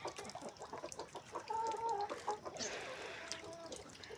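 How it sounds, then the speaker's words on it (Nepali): Chickens eating feed cluck in short, repeated calls, with a few drawn-out warbling clucks in the middle, fairly faint against a quiet outdoor background with no talking. "अनि कुखुराले चारो खाँदैछन्।"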